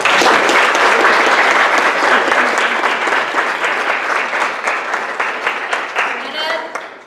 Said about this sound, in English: he needs a round of applause